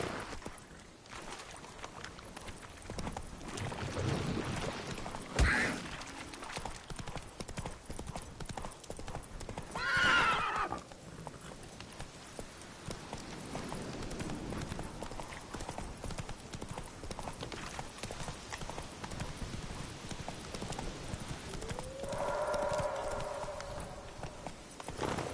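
Hooves of a horse in The Witcher 3 clip-clop in a steady galloping rhythm, with a brief whinny partway through, heard alone at moderate loudness.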